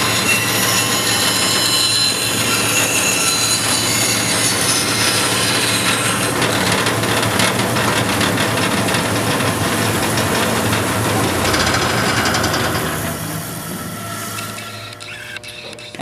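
A bandsaw fitted with a 3/8 inch blade runs loudly and continuously, a dense mechanical whir and rattle that holds steady before easing down toward the end.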